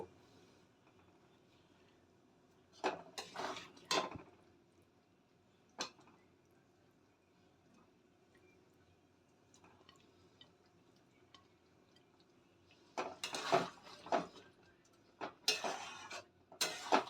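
Pre-fried pabda fish being added to simmering coconut milk in a pan for a mustard fish curry. Quiet bubbling is broken by a few bursts of clinking utensils and pan handling near the start and again near the end, with no talk.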